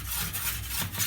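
Half a garlic clove rubbed across a hot griddle pan, a short rough scraping rasp with a couple of strokes, close and fairly soft, no voices.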